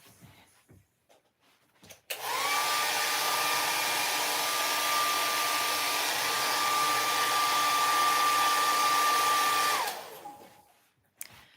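A hair dryer drying wet watercolor paint whooshes on and blows steadily for about eight seconds with a thin whining tone, then switches off and winds down.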